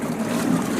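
A Newport Vessels 55lb-thrust electric trolling motor runs at full power, a steady low hum with a watery churn, close and continuous with no voices.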